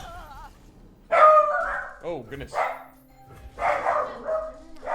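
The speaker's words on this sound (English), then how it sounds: "Dog's going a little bit crazy here." A dog barks in excited bursts at a mail carrier dropping off a package, loud and close, with a person's voice speaking over and between the barks.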